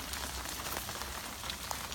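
Steady rain pattering on a surface, a dense, even hiss of drops with scattered louder splashes, close and continuous throughout.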